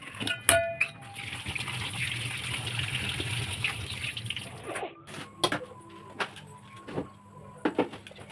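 Cold water poured over boiled macaroni as it is drained, a steady gushing splash for about five seconds, then intermittent drips and clatter of the pasta and strainer.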